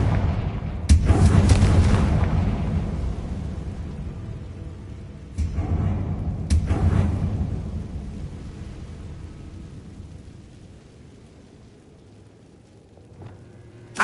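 Confringo fire spells blast in Hogwarts Legacy, three loud booming explosions with sharp cracking onsets, about a second, five and six and a half seconds in, each trailing off into a long low rumble, then a quieter click near the end.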